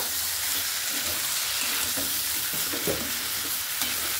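Potato and soybean chunks fry in spiced oil in a pan while being stirred, giving a steady close sizzle broken by soft scraping and stirring strokes throughout, with no voice.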